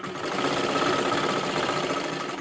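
A sewing machine runs a steady continuous stitch on silky fabric, sewing a double seam, with a dense mechanical whir held at an even level close by and no talk.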